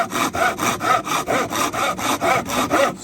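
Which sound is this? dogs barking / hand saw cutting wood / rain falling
hand saw cutting wood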